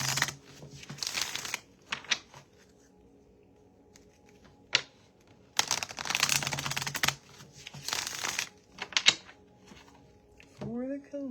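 Tarot-style energy cards being shuffled in bursts of crisp riffling and rustling, with soft voice in the background between shuffles.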